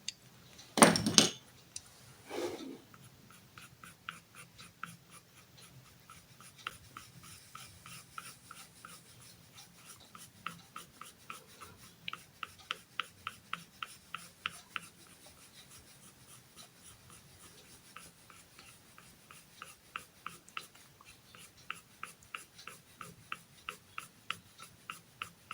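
Well-sharpened pencil shading a drawn cylinder on paper makes a quiet, rhythmic scratching of repeated short strokes, following a brief louder rustle at the start.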